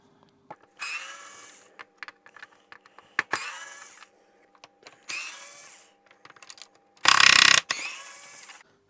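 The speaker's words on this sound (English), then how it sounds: "we need to remove the brackets holding the chassis on. So there's 2 brackets, 4 screws." Screws being backed out of the chassis brackets on a Hoover Turbopower Freedom cordless vacuum, with four bursts of close, loud ratcheting or motor whirring separated by quiet pauses and small clicks, and no talking.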